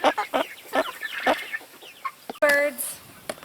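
Black Copper Marans chickens cluck in short bursts close by, then one bird lets out a louder drawn-out squawk near the end, with a little talk underneath.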